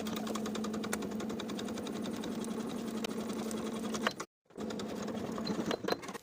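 A sewing machine runs steady rapid stitches along the fly shield seam of high-waisted jeans at a 3/8 inch seam allowance, with backstitching. It stops briefly near the end, then resumes.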